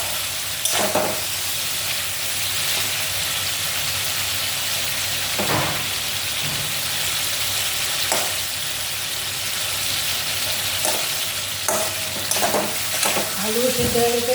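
A Bengali vegetable curry of potato and pointed gourd frying in a pan, a steady hiss of sizzling oil with occasional scraping stirs, running continuously and uninterrupted by speech.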